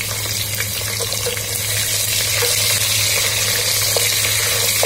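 Large-sliced onions, cut for a Kerala cheemachakka theeyal, sauté in a pan with a continuous, fairly loud hissing sizzle that holds steady throughout, with no talking.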